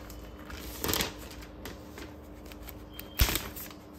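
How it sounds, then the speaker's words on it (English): Plastic wrap peeled off new M1 MacBook Air packaging: soft crinkling and crackling with a few sharper rustles, close and quiet, with no talk. "So shall we open the plastic?"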